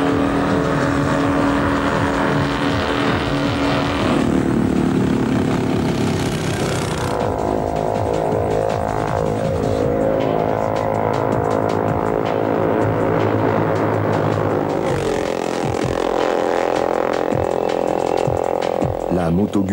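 Pre-war vintage racing motorcycles with open exhausts, among them New Imperial and Sarolea machines, roar loudly and continuously past at a race meeting, with engine notes rising and falling as they pass close by.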